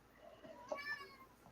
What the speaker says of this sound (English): And my cat says hi,